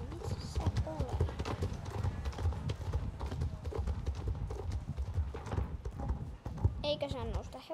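In the Star Stable horse-riding video game, horse hooves clip-clop steadily under continuous chatter from players talking over them throughout.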